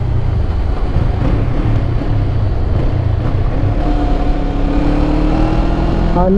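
A 2024 Kawasaki Eliminator 450 motorcycle engine pulls loud and steady up close, its pitch climbing through the rev range as it accelerates in the second half.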